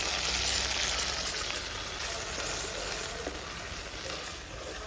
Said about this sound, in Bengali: এই যে এটা একটু নাড়াচাড়া করে নিয়ে দিয়ে দিচ্ছি এই টমেটো আর কাঁচা লঙ্কা বাটা